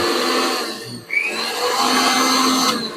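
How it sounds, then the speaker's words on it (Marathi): An electric kitchen mixer grinder powered by solar energy whirs loudly and steadily nearby. The motor dips for a moment, then spins back up to a constant high whine. "मिक्सर पण आता या सगळ्या ह्याच्यावरती चालतोय"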